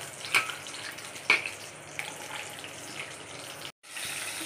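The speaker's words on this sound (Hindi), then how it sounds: "इसके बाद हम इसमें डालेंगे जीरा, इसमें जाएगा मटर।" Cumin seeds and peas going into hot oil in a pan for jeera rice, giving a steady close sizzle and hiss with a few sharper splashy bursts early on, then a brief drop to silence before the frying resumes.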